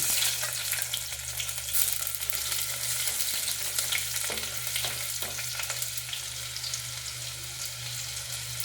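Mustard seeds and dried red chillies sizzle in about two tablespoons of hot oil for a pomfret fish curry, a dense, steady close hiss with faint popping and a few soft stirring knocks, no voices.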